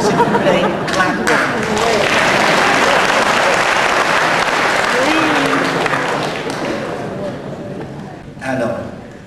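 A crowd applauds at a concert in Hanoi, with dense sustained clapping that swells and then tapers off, accompanied by light chatter and brief talk near the edges.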